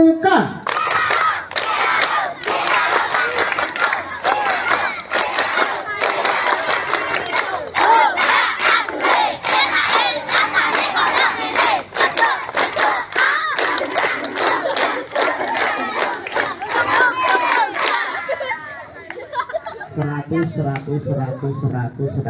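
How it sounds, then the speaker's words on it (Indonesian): A crowd of students doing the scout rhythmic clap-and-chant, loud unison shouting and sharp patterned clapping filling the space for most of the stretch, then stopping abruptly into quieter murmuring. "Tepuk pramuka."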